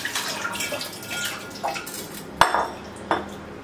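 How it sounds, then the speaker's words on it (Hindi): Boiled pumpkin is spooned into a small cooking pot in a home kitchen, giving light scraping and a few sharp metallic clanks of utensil on pot, with no talking. "छोटी सी पतीली ले ली है, इसमें ये कद्दू डाल देंगे"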